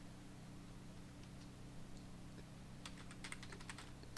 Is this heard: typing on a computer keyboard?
yes